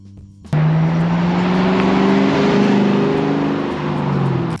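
Loud, close engine of a 1994-98 Ford Mustang Cobra bursting to life after a brief quiet moment, then a steady heavy roar held for several seconds before cutting off.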